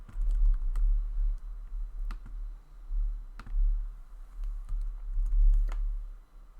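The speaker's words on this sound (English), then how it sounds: "just type in the content that I want to add" A computer keyboard is typed on to add content while building a website, giving sparse, irregular clicks of keys over a steady low hum, close by and with no speech.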